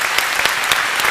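An audience applauds at a talk, a dense burst of clapping close and loud throughout the short stretch with no one speaking over it.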